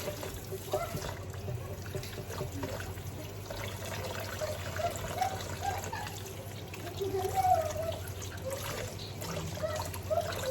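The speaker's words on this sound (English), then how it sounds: "I'm just rinsing it thoroughly." Dried stockfish (okporoko) is rinsed under running water, a soft trickling and splashing that continues throughout while a person talks over it.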